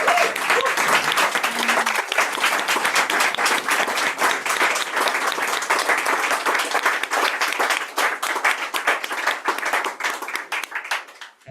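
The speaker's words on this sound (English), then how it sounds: "another round of applause" An audience at an open mic night claps in a long, dense round of applause, with many individual claps heard, thinning slightly and fading near the end.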